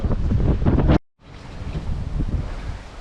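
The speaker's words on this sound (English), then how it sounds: "but it's still gusty" Strong, gusty wind buffets the microphone by coastal cliffs and a rock pool, a loud roaring rush that cuts out abruptly for a moment before surging back.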